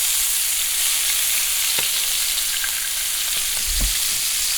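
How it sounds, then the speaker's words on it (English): Deer steaks searing in a hot pan while being basted, a loud continuous close sizzle with a few soft knocks and spoon clatters near the end, no voices. "You can start basting your steaks on top"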